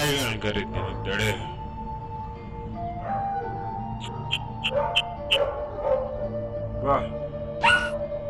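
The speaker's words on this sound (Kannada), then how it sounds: "ಸರಿ, ಹಾಗಾದ್ರೆ ನಾಯಿಗಳನ್ನ ಕರೀತೀನಿ," Several dogs bark and yip in short sharp bursts in an animated 3D movie, mixed with whimpering, over a soft musical score. A character speaks briefly between the barks.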